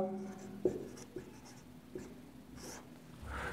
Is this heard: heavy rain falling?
no